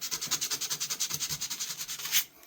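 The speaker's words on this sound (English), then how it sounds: "what I want to do is just give it a quick rub. Just with some used 500 or 600." A vintage Camillus pocket knife is rubbed with used 500 to 600 grit sandpaper by hand, giving quick, even back-and-forth scratchy strokes up close that stop abruptly at the end.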